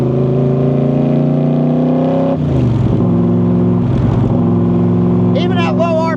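A Backdraft Racing roadster with a 550-horsepower, 535 lb-ft engine and a 5-speed Tremec gearbox runs loud and close, its tone dropping abruptly partway through as if shifting, then holding a strong steady drone.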